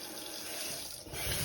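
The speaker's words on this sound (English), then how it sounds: "Right now, we're just using hot water and rinsing everything off." A hot water tap runs steadily, rinsing equipment for a mushroom monotub setup. The continuous splashing rush sits close to the listener and swells slightly toward the end.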